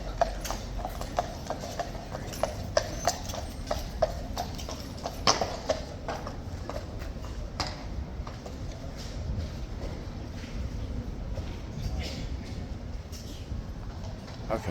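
Horses' hooves clip-clop on hard ground at Horse Guards, a steady run of sharp, fairly close hoof strikes over a busy outdoor murmur.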